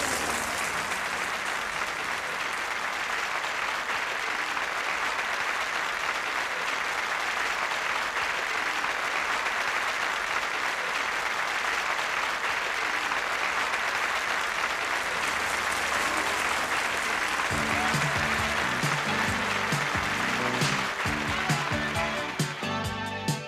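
Applause from an open-air summer concert audience at Boario Terme in 1983, a long unbroken wash of clapping from a large crowd, with music starting to come in under it toward the end.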